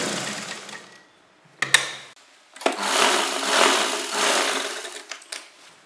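A sewing machine runs in bursts while hemming the waistband of an Afghani salwar, a short stitch, a pause, then a longer steady whirring run with small stops.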